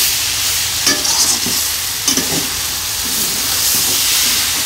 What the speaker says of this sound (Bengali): তো এই যে আমার শাক রান্না শেষের দিকে হয়ে গেছে